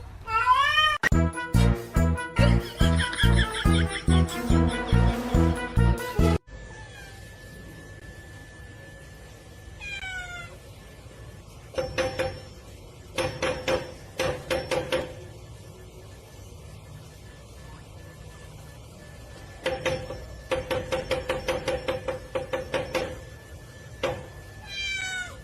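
A cat meows repeatedly, loud and close at first with a rapid run of calls, then quieter, spaced bursts of meowing over a steady background.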